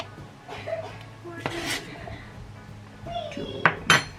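A tablespoon clinks against a cup while cocoa powder is measured in for a two-minute chocolate cake, giving a few scattered light metallic taps and scrapes, with two sharper clinks near the end over quiet kitchen background.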